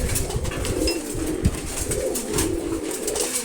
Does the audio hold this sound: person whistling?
no